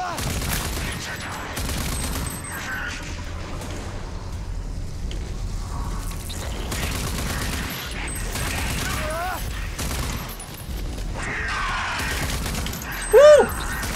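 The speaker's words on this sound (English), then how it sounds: "Let's use the assault rifle for a little bit." Assault rifle fire in the shooter RAGE 2, dense bursts of rapid gunshots and crashing impacts layered with game music and effects, loud and continuous, with a short sharp electronic tone near the end.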